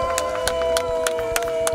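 A church congregation acclaims Jesus with rhythmic clapping. Regular sharp bursts land about every third of a second over a steady sustained musical tone, and the crowd sounds close and lively.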